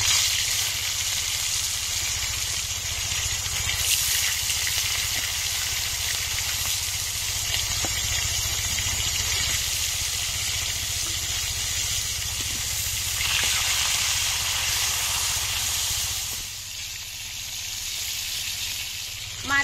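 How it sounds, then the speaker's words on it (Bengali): Ritha fish fry in hot oil in a wok with a steady, loud sizzle and hiss that runs continuously, briefly easing toward the end. "তেল গরম হয়ে গেছে, মাছগুলো দিয়ে দেব।"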